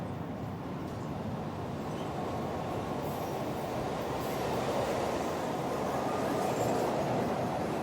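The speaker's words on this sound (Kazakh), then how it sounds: "Бұл сары метро." A cartoon metro train runs along the track with a steady, close rumbling roar and faint rattling that swells slightly toward the end, with no voices.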